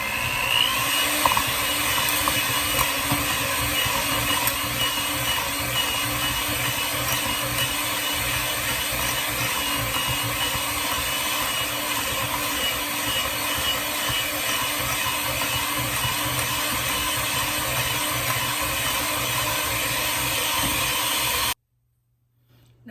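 Electric mixer running at high speed, creaming butter for a Kentucky butter cream sauce cake: a steady, continuous whir held for about twenty seconds, then cutting off abruptly.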